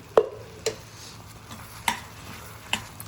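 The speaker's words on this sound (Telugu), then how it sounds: "బాగా ఒక దగ్గరికి వచ్చేంత వరకు కలుపుతూ ఉండాలి ఉండలు కట్టకుండా ఉంటుంది" An upma mixture of semolina with ghee being stirred in a pan to keep lumps from forming, with four or five distinct spoon scrapes and taps against the pan spaced irregularly over a quiet background, close by.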